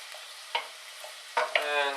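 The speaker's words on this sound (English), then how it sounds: "Just keep on stirring it around just in case the vegetables start to burn." Vegetables sizzle quietly in a pan while a utensil scrapes and stirs them in a few quick, close strokes, the last one followed by a brief rising hiss.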